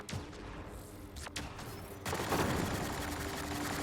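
Gunfire in the sci-fi shooter Mass Effect: Andromeda: a couple of sharp, loud shots ring out, then a dense, continuous barrage of rapid fire takes over and holds steady to the end.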